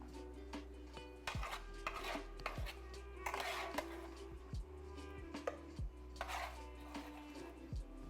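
Metal tongs scooping cooked onions, garlic and peppers from a pot for pozole verde soup, with soft repeated clinks and scrapes against the pot over a steady low kitchen hum.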